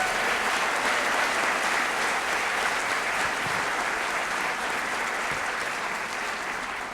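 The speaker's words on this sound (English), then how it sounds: "How about a round of applause?" A large audience at an employee service day event claps in a sustained, even roar of applause that carries on for about seven seconds and tapers slightly at the end, with no talk over it.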